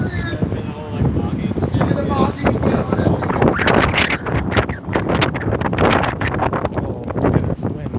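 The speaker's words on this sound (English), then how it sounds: "Oh, it is windy." Gusty wind buffets the microphone in loud, rumbling bursts at an outdoor protest outside the ICE building in Portland, with faint voices partly buried beneath the roar.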